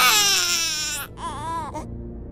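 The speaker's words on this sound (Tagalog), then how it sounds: "Dahil bibihira lang umiyak ang sanggol kung ito lang ay nagugutom" An infant wails loudly and close, one long strained cry that breaks off, then a shorter wavering sob before fading out.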